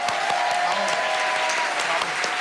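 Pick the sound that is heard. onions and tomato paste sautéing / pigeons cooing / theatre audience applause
theatre audience applause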